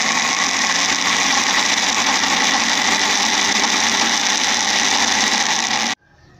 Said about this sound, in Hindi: इसको 10 सेकंड और ग्राइंड करना है।